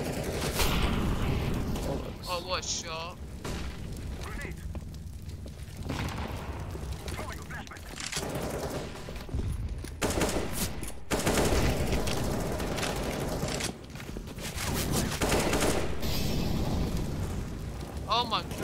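Video game combat with a flashbang grenade going off amid dense, continuous bursts of gunfire and booming blasts. Someone talks and exclaims over the loud, chaotic din.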